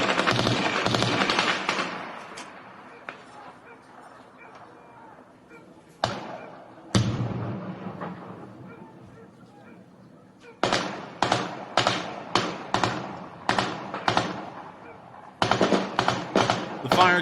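Bursts of gunfire crack out in irregular volleys in a city during the war in Ukraine, some single shots and some rapid strings, echoing between buildings with quieter gaps in between.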